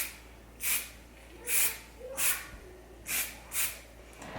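Kenra dry texture hair spray is sprayed in six short hissing bursts spaced roughly half a second apart, close and crisp, with brief quiet gaps between them.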